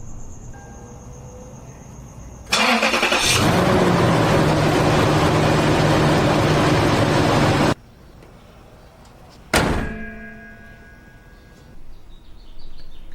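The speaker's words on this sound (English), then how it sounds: "I'm going to start the car." A Lexus GX engine cranks and starts abruptly with a loud, dense roar, holds a steady idle for about five seconds, then cuts off, followed by a brief second burst, against a quiet background.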